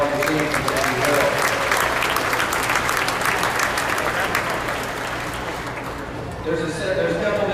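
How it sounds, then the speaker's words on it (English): Loud, sustained applause from a livestock show crowd cheering the steers and their teams in the show ring, with a voice talking over the clapping before it thins out near the end. "Let's give them a round of applause and all the teams as well."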